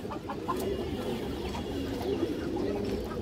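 Pigeons coo steadily nearby, low throaty rolling calls repeating and overlapping among a loft of full-down-shaped pigeons, with faint background noise.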